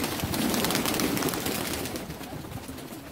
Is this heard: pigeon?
yes